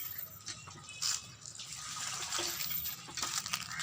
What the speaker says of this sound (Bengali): এখন কল চেপে জল ভরে